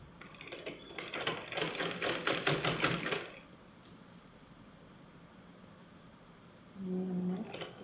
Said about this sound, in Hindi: ये हमने सिल लिया।